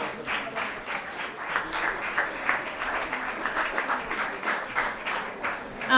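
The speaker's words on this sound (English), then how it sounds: "give everybody a round of applause" An audience claps for several seconds at a Deep Sea program event, a fairly close, steady patter of many hands with individual claps standing out, and no speech over it.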